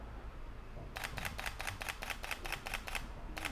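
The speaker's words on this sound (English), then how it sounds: "Just hitting the shutter button, just holding it." A Neewer battery-powered outdoor studio flash strobe fires with a camera shutter nine times in a quick, steady series of crisp mechanical clicks, close up, after a second of quiet room tone.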